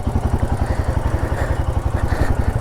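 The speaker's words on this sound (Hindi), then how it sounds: "now I'm taking this Himalayan for a ride." A Royal Enfield Himalayan 450 motorcycle being ridden, its engine loud and close with rapid, evenly pulsing firing beats and a steady throb, no talk.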